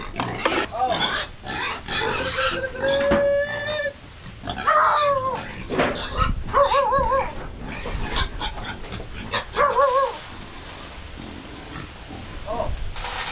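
A farm pig grunts and snorts while eating, with loud, close, irregular grunts and squeals mixed with people talking and animal calls throughout.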